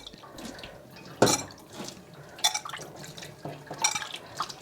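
Water is sprinkled by hand over steamed kozhukattai dumplings in an opened steamer, making light, scattered splashes and drips with occasional soft clinks of the pot, and no talking.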